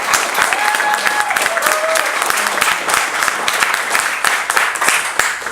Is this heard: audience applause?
yes